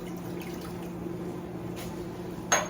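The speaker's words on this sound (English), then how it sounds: "So I put 1 cup of water into my mixer." One cup of bottled water pours into a stand mixer bowl for sourdough sandwich bread dough, a faint steady trickle over low hum, ending with a short sharp clink.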